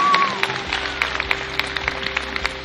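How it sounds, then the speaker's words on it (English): Brief scattered applause from a small crowd at a weight loss challenge gathering, with irregular claps spread over a few seconds and a faint tone underneath. "So give yourselves a huge round of applause."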